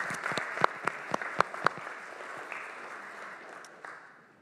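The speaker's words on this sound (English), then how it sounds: "I want to give a round of applause to our choir and to our vergers" A church congregation at a Maundy Thursday evening service applauds the choir and vergers, a moderately distant wash of clapping with a few crisp nearby claps that slowly fades out.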